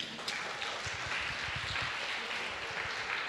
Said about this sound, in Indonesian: Beri tepuk tangan lu buat Andrew